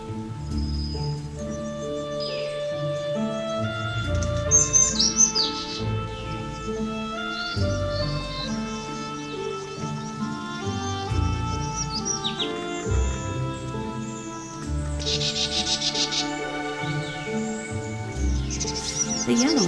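Birds in a replanted forest in Taiwan call and sing in overlapping whistles, trills and chirps, several voices near and far throughout with no pause.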